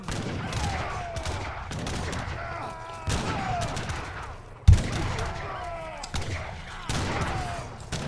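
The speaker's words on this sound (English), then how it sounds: "Is the game sounds a little bit too loud when I'm, like, the fighting, shooting" Real-time strategy game battle audio with Russian units, dense bursts of gunfire and fusillades with a deep booming low end, continuous and fairly loud across the whole stretch, with a sharp impact near the middle.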